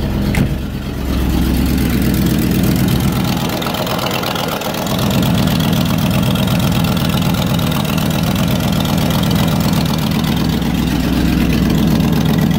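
A 1994 Range Rover engine idles steadily at close range, exhaust blowing out of the loose downpipe joints with a constant low chuffing rumble, one brief dip in the middle, no talking.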